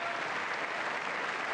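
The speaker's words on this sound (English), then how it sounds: "Look at the Democrats clap for that one" Dense, steady applause from Democrats in the chamber at the State of the Union, a continuous wash of many hands clapping, fairly loud and unbroken, with no speech over it.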